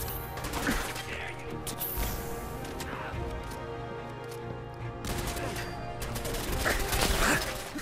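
Chaotic battle in Fallout 4: Nuka World, with rapid gunfire and heavy explosive bursts from grenades thrown from above, dense and loud for several seconds with brief lulls and a voice briefly audible underneath.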